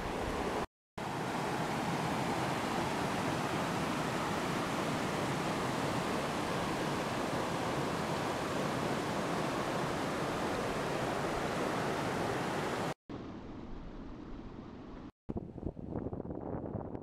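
The Mastigouche river rushing through forest, a loud, steady broadband wash of flowing water that fills most of the stretch, broken by brief cuts, then softer, quieter water near the end.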